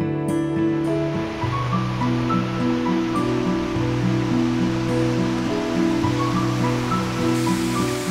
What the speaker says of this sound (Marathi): ही वाट उतरली आणि धबधब्याचा आवाज कानावर पडू लागला